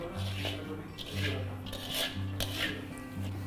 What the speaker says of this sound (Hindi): ये हमने बादाम डाल दिया और इसको अच्छे से मेल्ट करना है, अच्छे से इसको मिक्स कर लेना है।